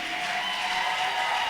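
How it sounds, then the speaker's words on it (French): An audience at a couples conference applauds to welcome the speaker, a steady even wash of clapping heard at moderate level from a distance, without spoken words. "Sous vos acclamations, s'il vous plaît"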